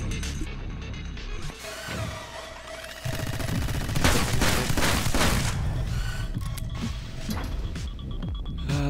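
Turrets firing in a video game: loud, dense bursts of rapid gunfire with booming impacts that build to a heavy barrage midway, then thin out to scattered shots.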